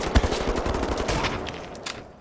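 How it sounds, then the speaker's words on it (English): A double barrel shotgun fires in Wolfenstein The New Order, with one sharp close blast near the start and then a rapid run of lighter shots that fades out. "Somehow I switched the double barrel shotgun."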